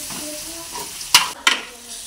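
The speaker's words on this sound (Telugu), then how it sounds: "బాగా ఫ్రై అయ్యాక టమాటా ప్యూరీ వేసుకుని బాగా కలుపుకోవాలి" Onions frying with tomato puree for an aloo masala curry, a soft sizzle under a couple of sharp scrapes of a spoon stirring the pan, with no talking.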